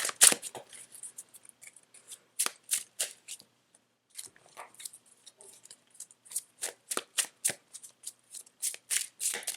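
A deck of cards is shuffled repeatedly, with quick riffling bursts and short pauses between them, close and crisp.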